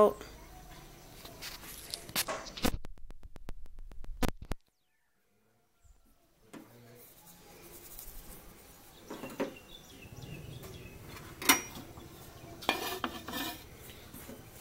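Pork is stirred and dry-fried in a pan for northern Thai nam prik ong chili paste, giving scattered utensil scrapes and clinks against the pan with a faint sizzle, broken by a brief silent gap.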